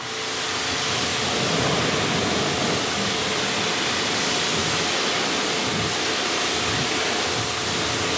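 A pressure washer with a 4.0 nozzle rinses a car, giving a steady, dense hiss of spraying water that runs unbroken at even loudness from start to finish.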